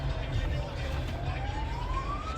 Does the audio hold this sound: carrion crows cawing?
no